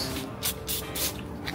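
Short hissing bursts of lubricant spray aimed at a motorcycle during routine maintenance, three or four quick puffs close by with no talking.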